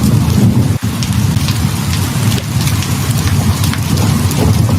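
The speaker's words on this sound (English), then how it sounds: "he will absolutely put on rain sounds every night" Steady, dense rainfall pattering on surfaces with a constant hiss, loud and close, plus a soft low rumble like distant thunder underneath.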